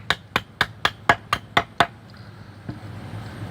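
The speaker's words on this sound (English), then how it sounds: "Maybe a little bit more chopping" A Condor Hudson Bay knife chops wood in a run of eight sharp, evenly spaced close impacts, followed by a pause and one softer final strike.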